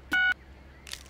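Phone number being dialed in the video game Lego City Undercover, a short electronic keypad tone followed by a soft rustle, with no speech.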